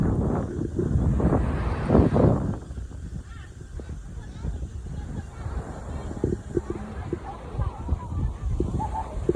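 Gusty wind buffets an outdoor microphone near a road by a center island, loud rumbling bursts early then steadier lower buffeting, with faint voices and traffic underneath.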